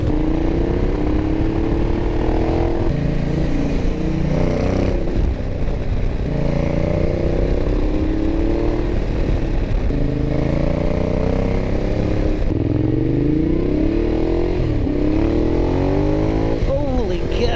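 A 2012 Ducati Diavel motorcycle accelerates hard through repeated gear changes, its loud engine note rising and dropping in a close, continuous run.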